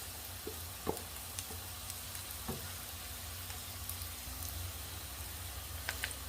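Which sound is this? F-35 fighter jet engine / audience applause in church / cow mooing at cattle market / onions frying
onions frying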